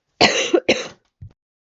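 Two harsh, close coughs in quick succession, followed by a brief low throat-clearing grunt.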